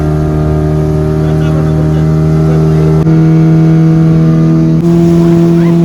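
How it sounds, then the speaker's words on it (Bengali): Speedboat engine running on the lake at Massanjore Dam, a loud, steady, close droning hum that holds without a break and shifts pitch slightly twice as the throttle changes. "আর এগুলো কিন্তু স্পিড বোট"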